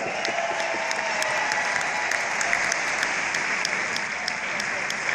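An audience at a live oldies concert show applauds steadily, a thick continuous wash of clapping heard from a distance, with some sharp individual claps standing out.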